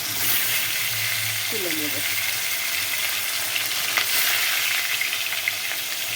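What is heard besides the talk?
rohu fish frying lightly in hot oil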